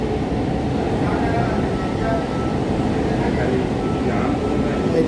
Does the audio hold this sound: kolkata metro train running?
yes